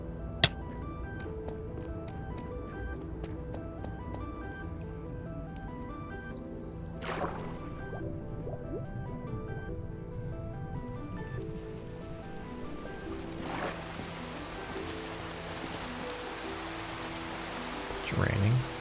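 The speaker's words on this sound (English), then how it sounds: "It's raining." Minecraft rain falls as a steady hiss throughout a survival game session, with faint game sounds, soft thuds and a brief sharper noise near the end, no talking heard.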